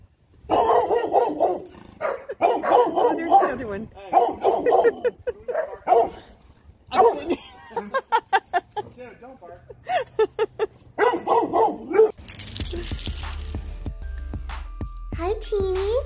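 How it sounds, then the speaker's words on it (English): Neighbor's puppies bark in sharp, high yips and bursts, close by, in a run of quick barks mixed with a voice talking over them, followed by a softer noisy stretch at the end. "here come the neighbor's puppies"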